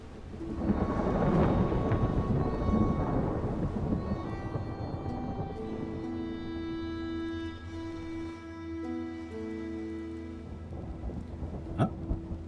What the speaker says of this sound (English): They just went into the storm.